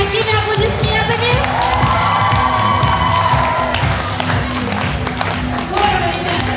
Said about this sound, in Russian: Поддерживаем друг друга аплодисментами.